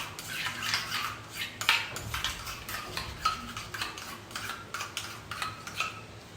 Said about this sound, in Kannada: ಕ್ರೀಮಿ ಕನ್ಸಿಸ್ಟೆನ್ಸಿ ಬರೋ ತನಕ ನೀಟಾಗಿ ಮಿಕ್ಸ್ ಮಾಡ್ಕೊಬೇಕು